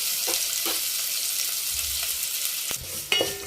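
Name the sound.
onions frying and sizzling in oil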